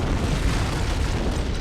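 An antimatter charge explodes aboard a ship in the Halo: Combat Evolved game, a loud, sustained, rumbling roar with no voices.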